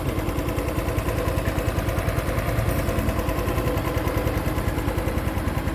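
A Honda Wave 110i 110cc motorcycle engine idles steadily nearby, a rapid even putter with a low throbbing pulse that holds constant throughout.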